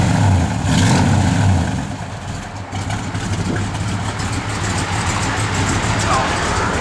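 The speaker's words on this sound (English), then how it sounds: "Give it a little rev." A 1969 Plymouth Road Runner engine revs up close, a heavy low rumble that swells early and then settles back to a steady idle.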